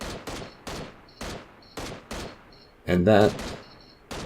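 Repeated gunshots from PUBG Mobile, a mobile battle-royale game, ring out in a steady series of sharp cracks about every half second, with a brief burst of speech cutting in partway through.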